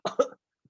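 A voices an imitation of an elderly man of about 95 coughing in a front row, two quick raspy coughs close up followed by silence.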